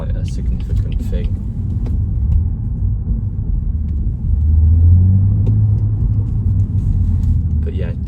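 A 2015 BMW M235i manual coupe (F22) with a 3.0-litre engine gives a deep, steady exhaust rumble from nearby, swelling louder midway through.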